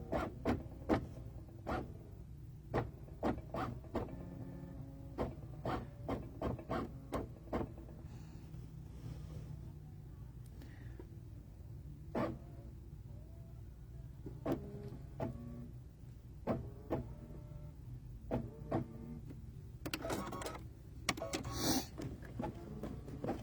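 An embroidery machine stitches a decorative in-the-hoop design, giving repeated short mechanical whirs and clicks in bursts separated by brief pauses, fairly quiet.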